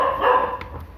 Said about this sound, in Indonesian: hewanku sedang menggonggong-gonggong gitu di luar